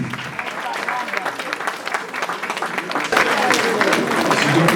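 Wedding guests at an evening dance reception in Bordeaux clap steadily in a dense, sustained burst of applause that swells louder partway through, with voices mixed into the crowd noise.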